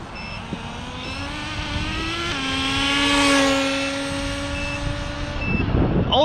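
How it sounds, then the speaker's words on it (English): Exceed Nitro Rally Monster RC car's nitro engine running steadily with a buzzing whine that shifts pitch midway and holds, fairly close, with no talk. "this engine doesn't really get those really high RPMs"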